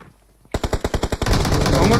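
Automatic gunfire in a shooter video game starts after a brief quiet: a rapid, loud, close burst of about ten distinct shots that blurs into a continuous roar.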